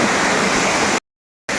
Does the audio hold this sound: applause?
no